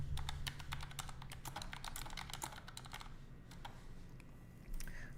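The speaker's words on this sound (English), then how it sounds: "Let's type that." Fingers tap rapidly on a computer keyboard in a run of crisp, close keystrokes that slow toward the end, heard alone without speech.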